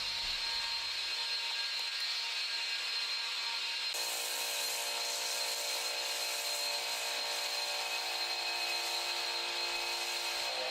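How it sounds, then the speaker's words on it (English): An electric pressure washer sprays thick snow foam through a foam lance onto a car, a steady hissing spray with a higher, harsher mechanical whine kicking in partway through and continuing loudly to the end. "you'll easily be able to see nice thick foam for what's coming out of the pressure washer here"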